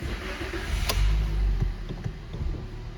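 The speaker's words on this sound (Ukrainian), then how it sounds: "Двигун працює ідеально, ніяких помилок немає." A 2013 Toyota Corolla with 125,000 km on it idles steadily right after starting, a low continuous engine drone with a brief louder swell near the start, close and alone.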